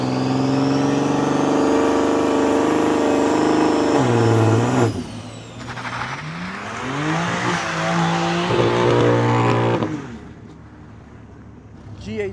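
A BMW M340i revs hard at a private track day, a loud sustained engine roar with rising and falling pitch sweeps as the car does burnouts, dropping briefly and surging again before easing off near the end.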